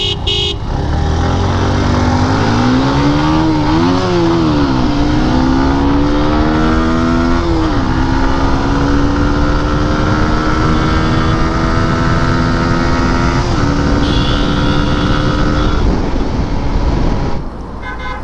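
Gixxer Monotone and Honda Hornet CBS 2022 motorcycles racing on a highway, engines revving loud and close as they climb through the gears, pitch sweeping up and down steadily for about eighteen seconds.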